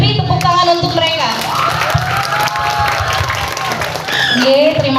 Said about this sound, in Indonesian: mari kita beri tepuk tangan untuk mereka